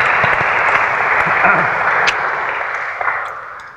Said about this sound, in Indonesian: Kita kasih tepuk tangan lagi buat Nana